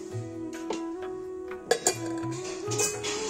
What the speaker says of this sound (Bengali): ছেলে কত বড় হয়ে গেছে, আবার থালা বাসন ধুচ্ছে।